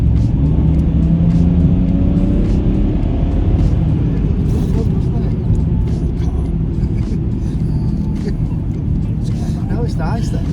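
A BMW F30 330d diesel sedan driving in sport mode, with a loud, steady low engine and road rumble heard from inside the cabin while people talk over it.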